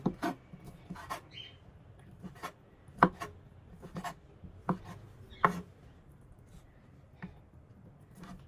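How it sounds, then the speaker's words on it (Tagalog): A knife chops chicken liver on a cutting board in a quiet kitchen, making irregular crisp thuds and taps with short pauses between them, close and fairly soft, with no voices. "Nahiwa na po natin yung atay."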